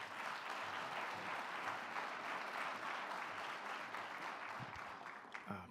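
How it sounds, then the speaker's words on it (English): An indoor audience at a community briefing on gun violence gives sustained applause, steady and fairly even throughout, with a few louder claps or thumps near the end. "please give him a round of applause."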